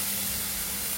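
Carrots are added to vegetables sautéing in a pan, giving a steady, close, bright hissing sizzle that holds evenly for a brief moment, with no talking.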